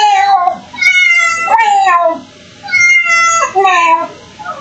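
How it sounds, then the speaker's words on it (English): A cat meows repeatedly and close by, four or five drawn-out, wavering cries with short pauses between them, loud and clear with no talk over them. "What's she meowing at?"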